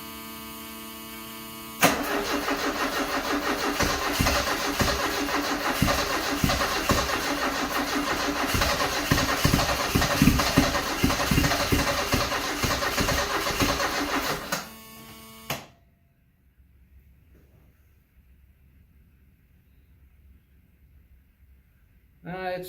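A 1974 Alfa Romeo engine cranks steadily for about thirteen seconds, its starter churning in a rapid rhythm without catching, then cuts out abruptly into near silence.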